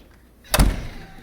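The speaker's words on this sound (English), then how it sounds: "You close the door." A house door with weatherstripping swings shut with a single solid thud, close and brief, followed by a faint fading rattle.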